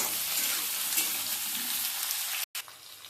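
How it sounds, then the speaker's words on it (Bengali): Eggplant frying in hot oil alongside potato and beans, a steady close sizzle with stirring, briefly cut out near the end before the sizzle returns. "বেগুনটা দিয়ে একটু ভালো করে ভেজে নেব"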